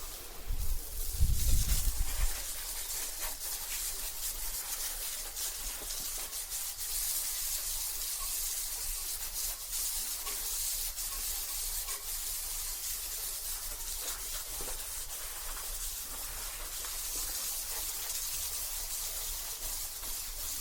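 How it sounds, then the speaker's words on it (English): A brief rubbing or handling noise gives way to a continuous hissing spray of Diamondbrite bike cleaner onto a bike, holding steady and fairly close for a long stretch. "just spray it on"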